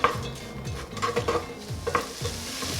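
Shallots and herbs simmering in a pan over medium heat for homemade vegetable soup, a quiet sizzle with rhythmic scraping strokes of a spoon stirring, no voices.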